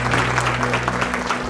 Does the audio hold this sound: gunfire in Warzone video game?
no